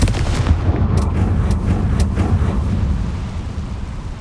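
A Confringo fire spell explodes in the Hogwarts Legacy video game: a loud, rumbling blast with several sharp cracking bursts over a deep, continuous roar.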